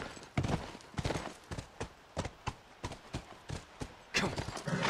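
Hooves of a horse in The Last of Us video game pound in a steady gallop, a run of sharp close thuds at an even rhythm that thickens into a louder burst near the end.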